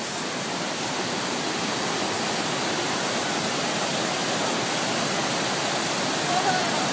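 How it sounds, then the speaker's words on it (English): The constant, roaring rush of Swallow Falls in North Wales fills the clip evenly from start to finish, loud and close with no breaks. "Look at the swirling water."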